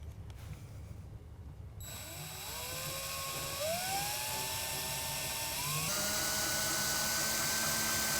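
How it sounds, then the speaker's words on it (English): A power drill whines up in pitch, steps higher as it drives self-tapping screws into the bed cap of a 2012 Dodge Ram 1500, then holds a steady high-pitched spin, close and continuous. "we're going to use a couple of provided self-tapping screws with a drill"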